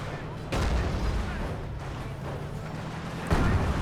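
Heavy booming shots ring out in a tank video game, a mortar firing with two loud reports about three seconds apart over a steady engine rumble.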